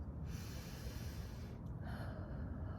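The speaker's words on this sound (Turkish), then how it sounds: "Derin bir nefes al." A long, steady breath is drawn in, airy and close, with a hissing quality throughout.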